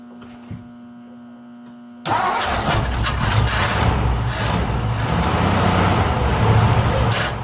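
A 1954 Ford car engine with a carburetor troubled from sitting fires up abruptly after a low hum, then settles into a loud, steady idle rumble with no speech.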